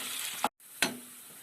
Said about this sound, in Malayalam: മീഡിയം സൈസ് തീയിൽ വെച്ചിട്ട് നമ്മൾ ഇത് നന്നായിട്ട് ഒരു ഗോൾഡൻ ബ്രൗൺ കളർ ആകുന്ന ഒരു പാകത്തിന് വറുത്ത് കോരാം